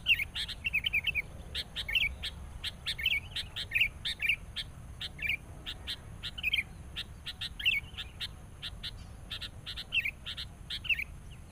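A wild sooty-headed bulbul (kutilang) calls repeatedly in short, bright chirping phrases, fairly close and clear over a soft, steady outdoor background.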